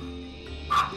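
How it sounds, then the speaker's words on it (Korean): A young puppy gives a single short, sharp yip-like bark near the end, close and fairly loud over a quiet indoor background. "이렇게 누군가 왔다 하면 짖는 건 기본."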